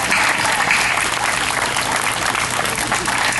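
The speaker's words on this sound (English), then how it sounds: "I'm going to have everybody up here join me in applauding you all in the audience" A crowd at a political address at the Illinois State Fair applauds loudly and without a break, a dense wash of clapping that fills the whole stretch.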